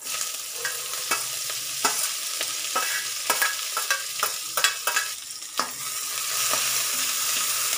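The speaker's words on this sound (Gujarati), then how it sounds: "લીલી ડુંગળીને આપણે સરસ સાતરવા દેવાની છે." Green chillies and spring onion sautéing in a pan for an eggplant dish, with a steady sizzle and irregular spatula scrapes and taps running throughout, close and moderately loud.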